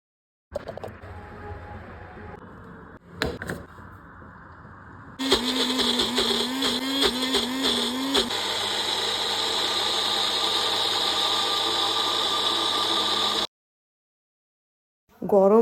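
A kitchen blender purées lightly boiled broccoli with ginger, garlic, onion, salt and green chilli. Brief clunks come first, then a loud high motor whir runs for several seconds and stops abruptly.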